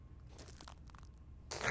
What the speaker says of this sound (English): Listen to the crunch.